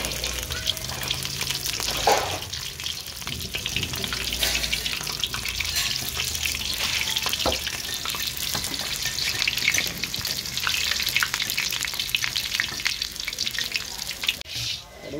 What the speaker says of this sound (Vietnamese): Chiên cái đuối trước nha nhà.